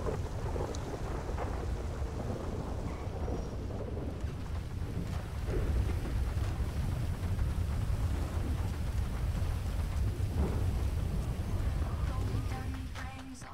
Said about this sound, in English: I like the rain, though. I love the rain. Thunder's a little loud, though.